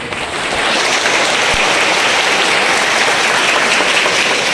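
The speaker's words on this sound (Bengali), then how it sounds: "তো ওদের জন্য একটা হাততালি হয়ে যায়।" Audience applause for prize-winning students at a school event, a loud, dense wash of clapping that swells in quickly and holds steady and close without pause.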